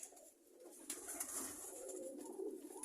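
Soft cooing from a pigeon pair, the female sitting on eggs, murmurs steadily through the clip against a hiss of background noise, with no voices present.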